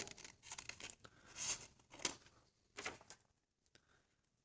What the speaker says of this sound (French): Et on va donner des coups de ciseaux.